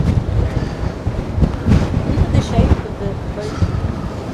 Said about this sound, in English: They're super windy up this front bit.